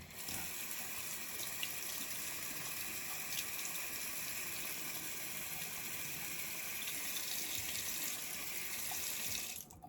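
Tap water running into a sink to wet a razor blade for shaving, a steady close splashing stream for about ten seconds that cuts off abruptly at the end.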